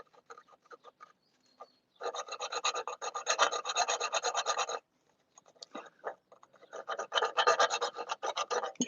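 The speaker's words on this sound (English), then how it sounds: "Thankfully it's cast aluminum, so this is shaving real easy." A tool shaves a cast aluminum engine part on a Miata in close, rapid rasping strokes. The strokes come in two bursts with a short quiet gap between them, and there is no talk.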